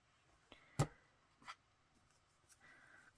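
Scissors cut pieces of fabric for junk journal needlework, giving a few brief crisp snips spaced irregularly, one sharper and louder than the rest, with soft rustling between them and a quiet background.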